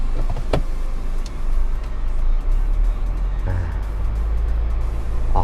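A 2005 Mercedes-Benz E220 CDI W211 turbo diesel pulls away from rest, its low engine drone steady and close inside the cabin with a brief rising whir partway through and no talking.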